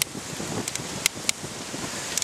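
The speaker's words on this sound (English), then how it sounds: "Ooh, it's windy." Steady wind buffeting a microphone during an outdoor ride, a continuous broadband rush with a few brief sharp crackles and gusts, loud and close throughout with no talking.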